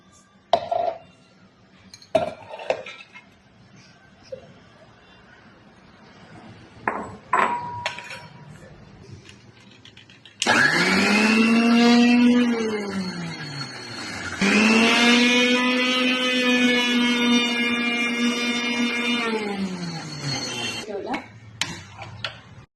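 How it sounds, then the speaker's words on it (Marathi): A kitchen mixer grinder grinds peeled maize kernels for sweet laddoos, roaring in two long, loud whining bursts with a brief pause between, after some clinking of utensils and handling. "तर आपण आता पहिल्यांदा हा मका मिक्सरमध्ये काढून घेऊ"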